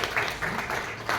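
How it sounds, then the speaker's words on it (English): A brief burst of applause from an audience at a prize ceremony, heard as a few uneven swells of clapping over a short moment. "A big round of applause for them."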